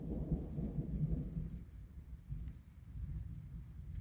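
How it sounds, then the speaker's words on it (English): Heavy thunderstorm rain drumming on a vehicle, with a deep rumble of thunder at the start fading into a steady, dense roar of rain. "it is raining buckets, as you can hear"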